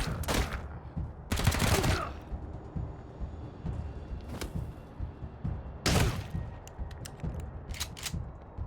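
Bursts of gunfire in Wasteland 3, several loud broadband volleys at irregular intervals with quieter mechanical clanks and thuds between them.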